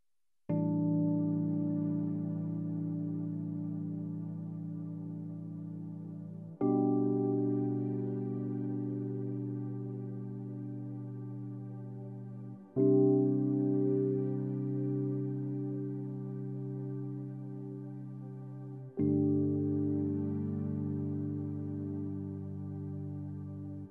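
Keyboard plays the chorus of a song, four long sustained chords each struck cleanly and left to ring and fade over several seconds, warm and close with no voices.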